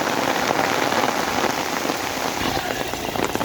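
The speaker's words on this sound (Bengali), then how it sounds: "ভালোই বৃষ্টি হচ্ছে" Heavy rain pours down steadily, a dense close hiss of drops drumming on surfaces, with no pause.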